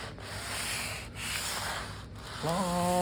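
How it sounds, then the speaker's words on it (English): Sandpaper rubs along a painted guitar neck being refinished, in long, slow strokes with light pressure. Three steady, close scratching passes are separated by brief pauses, and a faint tonal hum enters at the end. "Let the sandpaper do the work."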